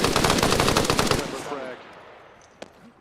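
Close, loud automatic gunfire rattles in a rapid burst during shooting training as rounds go into a wall. The burst cuts off after about a second and echoes away, and one sharp single crack follows.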